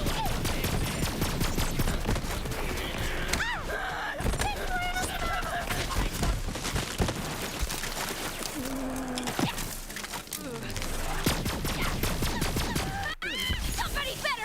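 Rapid weapon fire in the Borderlands shooter game, a dense sustained volley with sharp repeated shots running almost the whole time under game sounds and a talking voice.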